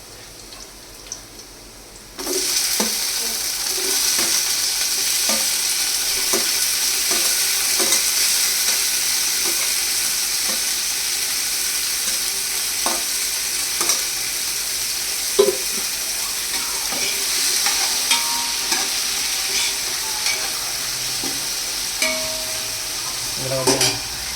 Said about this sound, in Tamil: அதனால் இப்போ வந்து தக்காளியை போட்டுடலாம்